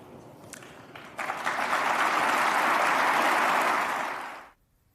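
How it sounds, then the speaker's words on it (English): A spontaneous round of applause swells quickly from a few claps into dense, even clapping from an audience, holding steady for about three seconds before cutting off abruptly. "Except that spontaneous round of applause."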